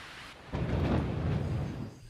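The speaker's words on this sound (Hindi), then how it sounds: "लीला वापस खिड़की के बाहर हो रही तेज बारिश को देखने लगती है।" Heavy rain pours outside a window, a dense hiss that swells suddenly with a deep rumble of thunder and keeps rolling to the end.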